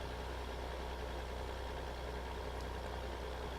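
A virtual tractor engine in Farming Simulator 2015 idles in a steady, continuous low drone with a faint mechanical knock, heard alone without any talk.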